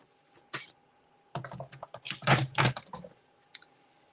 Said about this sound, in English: I'm going to cut it to 3 inches